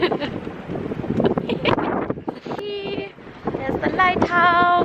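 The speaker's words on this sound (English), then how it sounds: "Just a tad windy" Strong wind buffeting the microphone on a rainy Western Australian coast, loud gusty rumbles that rise and fall, with voices talking intermittently over it.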